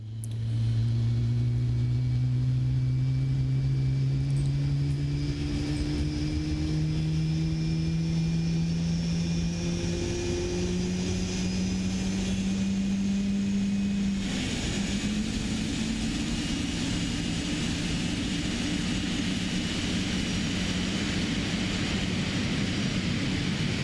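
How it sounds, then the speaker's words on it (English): The jet engines of a PMDG 777-300ER airliner in Microsoft Flight Simulator spool up with a loud, continuous whine and roar that rises slowly in pitch over a steady rumble, with no talk. "Now the engine sounds are absolutely beautiful."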